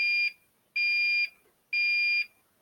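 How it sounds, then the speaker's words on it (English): A 20101 fire alarm panel in walk test sounds its alarm: three identical loud electronic beeps, each about half a second, evenly spaced and alone. "So I'm going to activate an alarm real quick"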